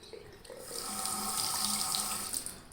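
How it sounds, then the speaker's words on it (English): A RazoRock Hawk v2 razor rinsed under a running sink tap, the water rushing steadily and swelling to a full, close splash for a couple of seconds before tapering off, with no talking. "let's give this a good rinse"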